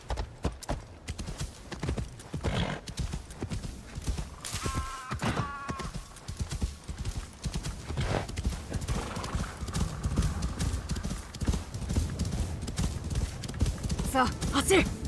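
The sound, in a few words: horse galloping over a frozen lake in a video game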